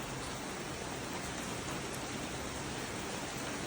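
Rain falling on a surface outdoors, a dense, even hiss with no other sounds standing out.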